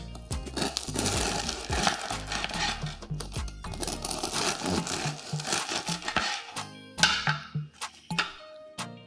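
A knife saws through a loaf of sourdough bread, with repeated crackly, crunchy strokes through the crust in an uneven rhythm, close and fairly loud, with a brief pause near the end.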